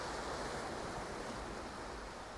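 Ocean waves at the sea as the tide moves in and out, heard as a steady broad hiss of surf without breaks or voices.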